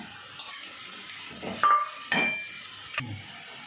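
Chicken pieces tipped into a pan of browning big and small onions for a chicken salna, giving a few close clanks of utensil on pan and a brief soft sizzle, with no talking.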